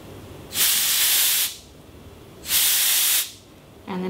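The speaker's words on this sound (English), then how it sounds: "I'm going to have my compressed air ready" Two separate bursts of compressed air, each about a second long, hiss loudly while spraying alcohol ink across a blackboard surface, with quiet pauses between them.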